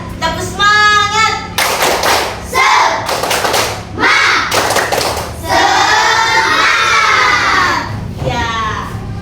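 A group of children clap together in bursts of sharp, rhythmic hand claps during a classroom clapping chant, with chanting and shouted voices mixed between the claps.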